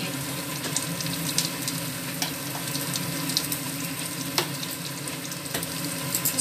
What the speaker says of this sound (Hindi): प्याज और हरी मिर्च डालकर थोड़ी देर इसको हम फ्राई करेंगे